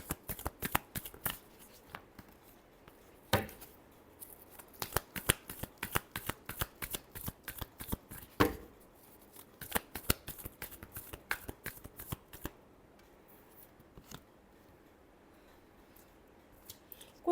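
Tarot cards shuffled by hand: rapid, crisp riffling flicks in dense bursts that run for most of the time, close and fairly quiet, thinning out near the end, with no talk.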